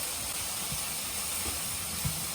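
Bell peppers dropped into a hot pan while pork in caramel is cooking give a steady, close, bright sizzle and hiss with a few faint clicks of a utensil underneath.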